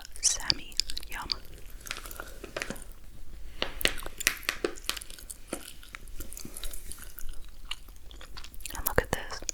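Gum chewing close to the mic: moist, squishy smacks and clicks in an irregular rhythm, with soft whispering and some paper handling under it.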